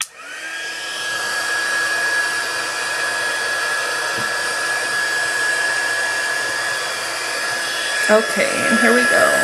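A heat gun runs continuously for heat embossing on a handmade Christmas card, a loud steady blowing whine with a high tone, while a person speaks briefly and something is handled near the end.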